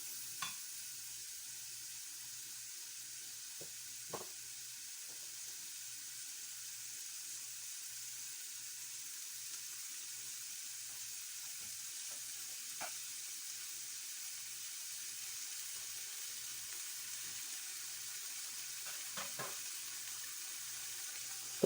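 A beef burger patty fries in a hot pan, giving a faint, continuous sizzling hiss with a few small ticks and pops spread through, steady and without talk.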